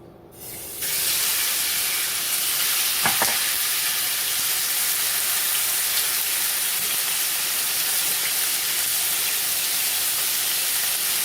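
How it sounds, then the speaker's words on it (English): Chicken sautés in a skillet over medium-high heat, a loud steady sizzle and hiss starting abruptly and continuing without pause, close and alone. "heat it over medium-high heat, and add it to the skillet and saute it for 4 to 5 minutes"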